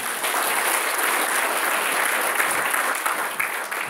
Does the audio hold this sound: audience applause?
yes